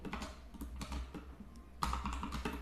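Code is typed on a computer keyboard in quick, close, irregular keystrokes, with a brief pause and then a sharper burst of clicks, and no one speaks.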